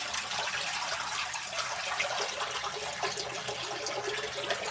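Water from an LG ThinQ MEGA washer on a bedding cycle rushes out through the drain hose, a steady faint hissing gush with no break.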